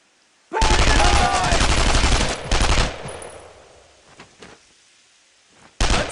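Sustained machine gun fire in the World War II shooter game Brothers in Arms: Road to Hill 30, loud continuous bursts that break off, then scattered quieter shots and a final loud burst.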